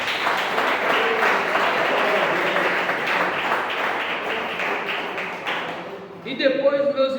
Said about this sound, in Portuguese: Exalta o Senhor com as palmas.